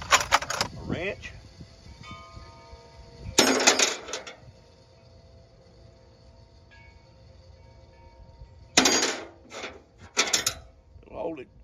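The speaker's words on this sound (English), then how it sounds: "That's a 17 millimeter snap-on wrench." A 17 mm Snap-on wrench clinks and clatters metallically in hands wearing Mag Grip magnetic gloves, with a few sharp bursts of contact separated by quieter handling and background hum.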